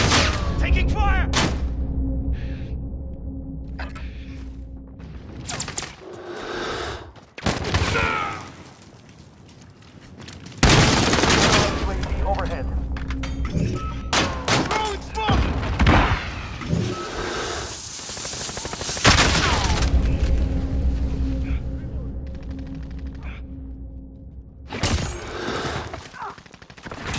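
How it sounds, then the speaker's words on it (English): Gunfire in a first-person shooter video game: loud rapid bursts of automatic weapon fire and sharp shots crackle repeatedly throughout, with brief lulls, under voices talking over game radio chatter. "Taking fire!"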